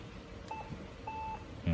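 Two short electronic beeps from a Yaesu FT-847 HF/VHF/UHF radio transceiver while a memory channel is saved, each clear and close over a low background hum, followed by a louder low thump at the end.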